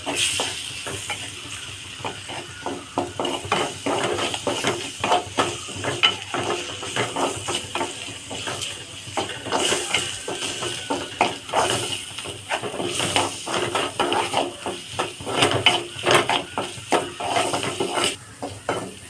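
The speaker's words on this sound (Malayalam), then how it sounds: "ഇത് നന്നായിട്ടൊന്ന് മിക്സ് ചെയ്ത് കൊടുക്കാം" Food stirred and mixed in a frying pan while cooking kappa and egg, with steady rhythmic scraping and clicking of a utensil against the pan over a soft, faint sizzle.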